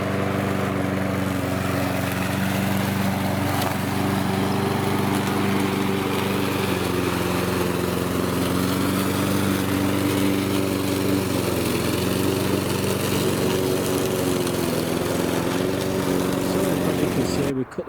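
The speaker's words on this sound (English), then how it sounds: "I've got the lawnmower here started, so we're going to go up cut the grass" A self-propelled motor lawnmower that drags itself along runs steadily and loud throughout, cutting grass in a garden, its engine drone constant from start to finish.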